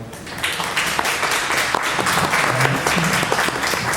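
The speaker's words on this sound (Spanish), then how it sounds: "un aplauso, por favor" Audience applause at a literary bibliography event, a dense, continuous crowd clapping that stays loud and steady from start to finish.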